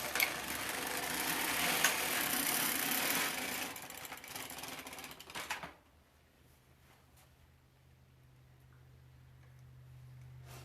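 An LK150 knitting machine works rows of a striped baby blanket, the carriage sliding across in a loud, rasping, clattering pass that ends abruptly, leaving a quiet low hum with faint ticks.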